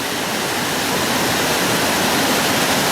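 The River Turret rushes powerfully through its channel, producing a loud, steady broadband roar of turbulent water with no pauses.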